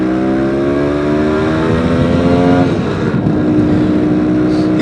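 A 1980 Vespa P200E 200cc two-stroke scooter ridden through a Connecticut town, its loud buzzing engine rising in pitch through the gears, then dropping and climbing again, with steady wind rush throughout.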